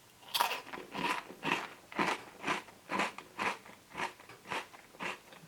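Repeated crunchy bites into an ice cream waffle cone coated with chocolate and sugar pearls, about a dozen crisp cracking crunches in a steady chewing rhythm, close and fairly quiet with no talk.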